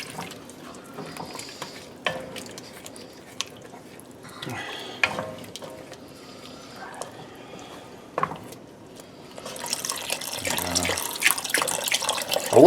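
Liquid, likely water or stock, pours slowly into a pot for crawfish and shrimp étouffée, with scattered clinks and stirring before a steady watery rush builds near the end. The sound is close, with no talk.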